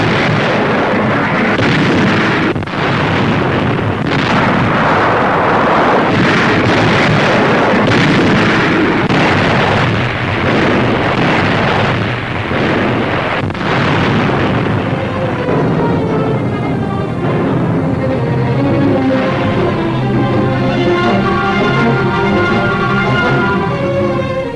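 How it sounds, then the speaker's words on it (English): Naval guns fire during the 1943 Sicily landing, a loud dense barrage of booming blasts and rumbling explosions, with an orchestral score rising over the din in the later part. "Naval guns cover the landing."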